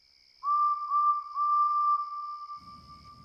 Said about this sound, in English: Then, he heard a familiar whistle.